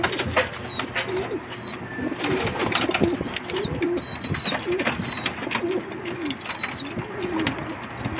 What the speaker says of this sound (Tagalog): papakainin ko muna yung aking mga alaga na kalapati